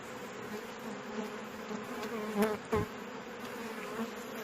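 Honeybees buzz at an opened hive treated with bay leaves against varroa, a soft continuous hum with a few louder individual bees passing close by.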